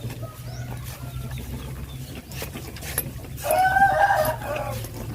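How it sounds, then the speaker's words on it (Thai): A rooster at a poultry breeding farm crows once, a loud, nearby cock-a-doodle-doo rising over steady background hum and faint farmyard noise. "เสียงไก่"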